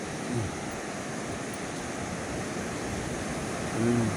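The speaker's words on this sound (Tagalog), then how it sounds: "Ang laking mga alon." Steady roar of sea surf washing in continuously, broad and rushing, with no talking.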